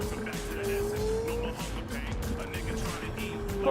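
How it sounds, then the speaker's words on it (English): A Lexus-based supercar engine in the video game Cyberpunk 2077 hums steadily with a droning tone and some tire noise, while a voice talks over it. "Apparently the engine sound on this thing is based on a Lexus of some kind."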